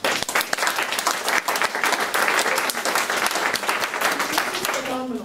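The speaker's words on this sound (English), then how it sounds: "I just want to take a moment and applaud you all" Sustained applause from an audience at a community engagement training, dense steady clapping that fills the space at an even level, with some voices mixed in and a brief tonal sound near the end.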